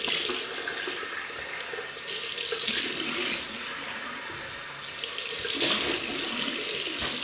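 A water tap runs steadily into a sink to rinse away shaving cream, with a close, loud rushing flow that swells slightly as the stream shifts.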